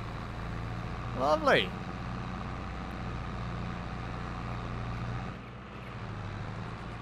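A truck engine in Farming Simulator 22 drones at a steady low pitch as the gears are shifted, with a brief dip in the engine note. A voice briefly speaks over it.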